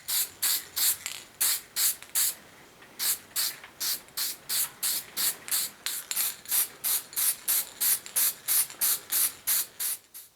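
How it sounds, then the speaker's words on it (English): Repeated short bursts of high gloss spray lacquer from an aerosol can, about two dozen evenly paced hissing puffs with a brief pause early on, close and fairly loud in a quiet workshop, applied to a hand plane's wooden knob and tote. "I'm just going to use several coats of a high gloss spray lacquer"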